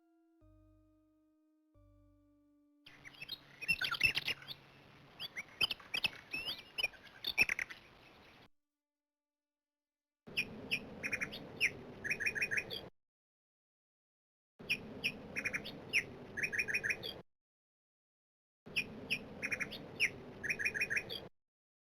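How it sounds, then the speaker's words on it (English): Abrupt bird chirps and squawks from the 1993 game Shadow of the Comet, in separate bursts of a few seconds with silent gaps between them, crisp and fairly quiet. "I like the very sudden bird sounds."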